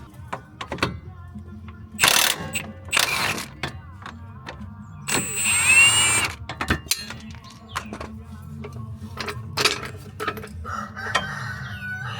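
Ratchet wrench removing a 19mm bolt on an Infiniti G37 Coupe during a coilover install, bursts of quick clicking alongside metallic clanks, with a rooster crowing in the background.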